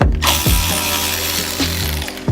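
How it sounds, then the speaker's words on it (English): A ratchet works loose a 12 mm brake line bolt on a Nissan 350Z, giving a continuous buzzing, clicking whir with a few sharp catches, loud and close throughout. "So I believe you just take this 12 mil out and the brake line is off."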